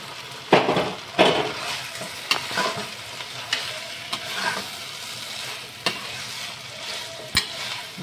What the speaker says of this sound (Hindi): हम इसमें अपने सोयाबीन डाल देंगे जो मसालों वाली है